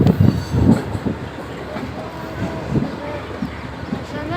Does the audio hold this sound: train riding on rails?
yes